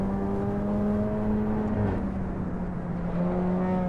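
A car engine in the Assetto Corsa driving game on the Nordschleife, a steady droning hum with pitch shifts as it revs, continuous and fairly loud, no talking.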